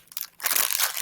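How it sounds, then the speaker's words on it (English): A crunchy squishy toy is squeezed up close, giving a brief soft crackle and then a loud, dense crunching burst that lasts under a second. "It's crunchy, but it's not really that squishy"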